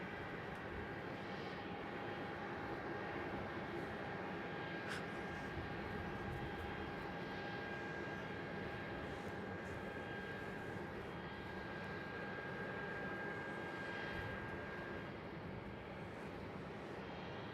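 A Qatar Airways airliner in oneworld livery lands at Melbourne Airport, its steady, distant engine roar sustained throughout with no talk, a faint whine running above the broad rumble.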